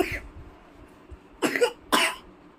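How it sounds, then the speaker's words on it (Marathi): A young girl coughs twice in sharp, close bursts after a quiet stretch, woken from sleep on a rainy day, with faint low rustling before the coughs. "तिला आला मग खोकला, मग खोकल्यामुळे झोपेतून उठली"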